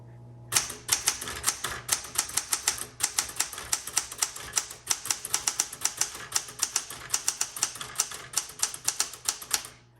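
A 1967 Smith Corona Classic 12 manual typewriter clacks under steady typing, crisp close keystrokes falling in quick irregular bursts, loud and alone without talk.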